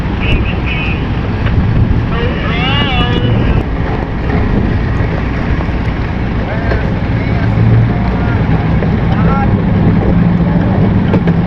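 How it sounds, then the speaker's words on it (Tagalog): Strong wind buffets a crowded passenger ship, a loud steady roar and rumble of wind on the microphone with engine and water noise underneath, while people talk intermittently throughout. "Lakas pa rin ang hangin."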